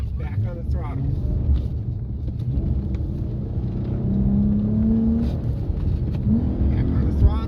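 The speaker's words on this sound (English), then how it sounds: "Brake hard coming down, easy into the corner, back on the throttle." A race car on a circuit brakes hard into corners and gets back on the throttle, its engine note swelling and rising over a steady low rumble, with a voice present.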